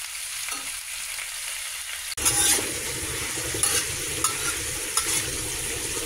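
Shrimp hits a hot pan with vegetables and breaks into a sudden loud sizzle that keeps crackling steadily, with a few small clinks of utensils. No one talks.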